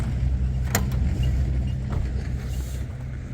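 A minibus engine with new fuel injectors idling with a steady low hum and rumble, a brief sharp click near the start.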